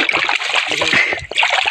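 River water splashing and sloshing near the microphone, a continuous bright churning with small bursts and a brief dip near the end.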